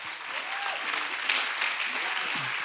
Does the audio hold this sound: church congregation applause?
yes